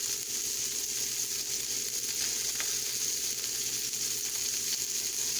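A burger patty sizzles in a pan, cooking on after the cheese-melting stage, giving a constant, even hiss that neither swells nor fades, with no talking.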